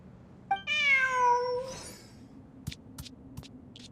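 A cat meows in the video game Genshin Impact, a single long drawn-out call, followed by a few soft clicks and small effect sounds over a quiet in-game background.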